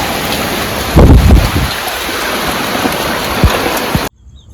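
Steady, dense rain pours down close by a leaking village house, a continuous hiss with a brief heavier rumble near the start, then cuts off abruptly.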